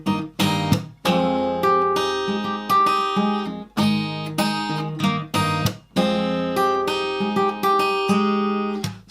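Guitar plays a riff alone, with strummed chords struck in a steady, bouncing rhythm and short pauses between phrases, close and clear with no talking.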